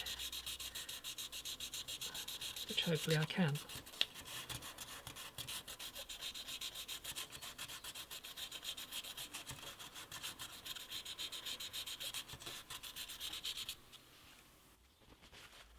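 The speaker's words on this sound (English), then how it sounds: "just to see if I can get them clean by sanding" Steady hand sanding on the wooden headstock of an antique parlour guitar, a continuous scratchy rubbing that runs nearly the whole time, with a brief mutter partway through before it fades near the end.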